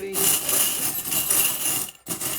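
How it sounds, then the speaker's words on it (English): Small metal charms rattle and clink as a hand scoops them up for a charm reading, a bright, dense jangle that runs almost continuously, then breaks off briefly before resuming. "let's grab some charms. They're so loud."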